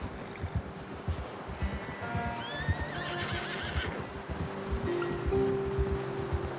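A horse whinnies loudly in the video game Red Dead Redemption 2, a rising, shaky neigh in the middle of the clip, with hooves clopping and rustling around it.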